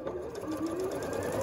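A sewing machine stitches quilt fabric along a quarter-inch seam line, a close, steady mechanical whir with a rapid, even needle rhythm running without pause.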